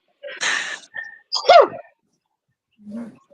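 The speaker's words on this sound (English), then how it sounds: "Gonna sneeze." A single close sneeze bursts out after a short breathy intake, followed by a faint sniff or murmur.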